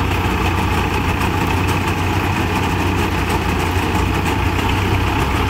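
A mini tractor-driven combine harvester engine runs continuously in a steady, loud drone that neither rises nor falls, with no voices.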